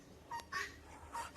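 Guinea fowl calling on a farm, a few short sharp repeated cries in two pairs, moderately near over a quiet background.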